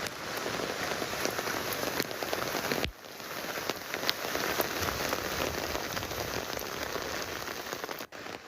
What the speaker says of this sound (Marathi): मुसळधार पाऊस सुरू आहे, जनजीवन पूर्णपणे आता विस्कळीत झालेलं आहे